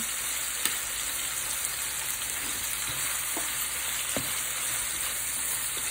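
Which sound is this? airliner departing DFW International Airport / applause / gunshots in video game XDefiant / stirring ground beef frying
stirring ground beef frying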